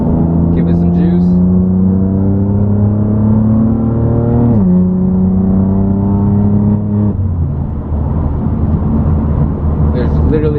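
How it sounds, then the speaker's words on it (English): A BMW M3 with an Active Autowerke single mid pipe exhaust is heard from inside the car with the windows up, its deep, throaty drone rising and falling through revs, loud and continuous. "now we're gonna go windows up. Give it some juice."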